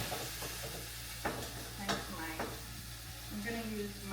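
Mushrooms frying in a pan for a keto protein pasta, a steady close sizzle with a few sharp stirring scrapes, over a constant low hum and no talk.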